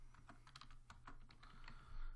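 Keys on a computer keyboard clatter in quick, irregular clicks, close and fairly quiet, over a low steady hum with no talking.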